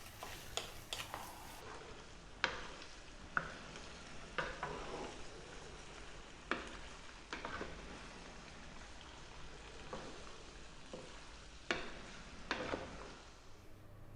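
Cooked pasta is stirred into a chicken and mushroom cream sauce, giving soft wet squelches and scraping clicks from a utensil against the pan. A faint sizzle runs underneath, with no voices.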